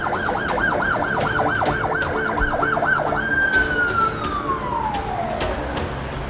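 A loud ambulance siren wails in fast rising-falling cycles, then shifts to a long steady tone that slowly drops in pitch as it fades.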